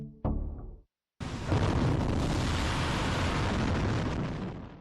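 A rocket lifts off with a sharp initial blast, a brief gap, then a loud, sustained, broadband roar that rumbles steadily for several seconds before easing slightly at the end.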